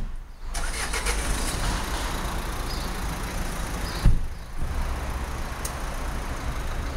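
A car engine turns over and starts, then runs at a steady mid-pitched idle as the vehicle pulls away, close by with a brief clunk partway through.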